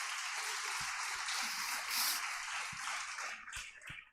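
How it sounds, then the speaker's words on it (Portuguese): A church congregation applauding together, a sustained wash of many hands clapping at moderate distance for several seconds, with a few sharper knocks mixed in. "Se você crê, dê um aplauso a Jesus."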